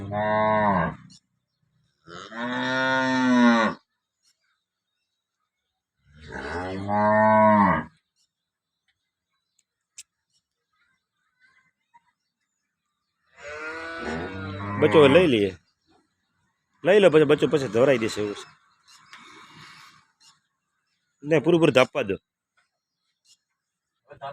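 Two cows moo in long, loud, separate calls while being milked, with quiet gaps between them.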